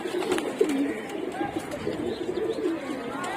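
Pigeons coo continuously in a loft, soft rolling calls overlapping close by with a faint background hum and no clear talk.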